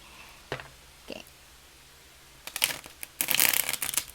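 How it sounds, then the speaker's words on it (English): Two brief taps on a tarot deck, a pause, then a rapid papery riffle of tarot cards being shuffled, close and crisp. "Just want to show you how it shuffles."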